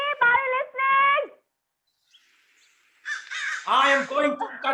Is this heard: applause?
no